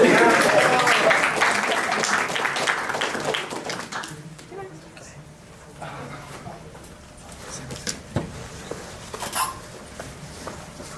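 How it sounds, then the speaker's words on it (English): Applause from an audience at an engineering club meeting, dense clapping for about four seconds that then thins into scattered claps and room noise with some murmuring voices. "So give him a round of applause."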